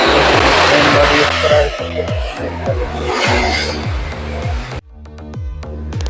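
A gum tape slitting machine with a solid shaft and an inching switch runs close by, its motor giving a loud, pulsing mechanical whir with rapid regular cycles, under a talking voice before a sudden drop near the end.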